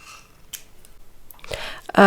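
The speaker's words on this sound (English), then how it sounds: "I'm gonna cut a piece of fire line" Scissors snipping a length of beading thread (FireLine) for a bead ring, a few quiet crisp clicks and a brief cutting sound close by, near the end.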